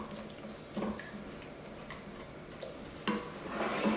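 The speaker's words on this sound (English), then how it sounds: "I'm gonna take our cauliflower spatula and just start scrambling it up a little bit." Eggs being scrambled with a spatula in a pan for cauliflower fried rice, a faint sizzle under intermittent scraping and light tapping strokes against the pan.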